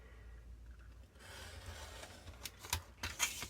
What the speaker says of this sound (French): je vais enlever ça avec mon cutter